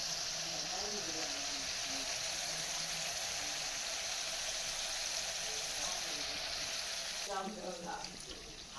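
Water pours steadily into a crab masala being cooked, a continuous splashing, hissing stream that thins near the end, with a voice speaking under it at times.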